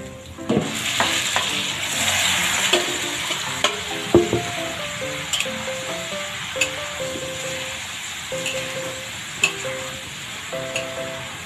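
Slices of Chinese asado pork sizzle steadily in a hot pan, a continuous close frying hiss broken by intermittent clinks and scrapes of a utensil stirring, with no voices.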